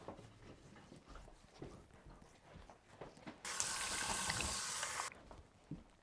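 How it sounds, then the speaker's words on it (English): Tap water runs into a sink for face washing, a steady broadband rush that switches on abruptly and cuts off about a second and a half later, set among quieter handling sounds and bathroom movement. "I'm gonna go wash my face off right now."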